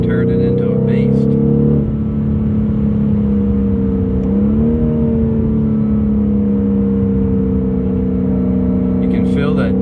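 A BMW M850i in sport mode drones with a loud, steady engine note from inside the car, its pitch swelling briefly midway, while someone talks over it.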